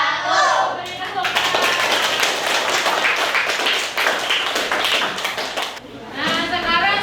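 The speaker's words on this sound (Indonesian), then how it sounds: "Beri tepuk." Classroom applause as students clap their hands together, a dense burst of claps that runs about five seconds between brief spoken words at the start and end.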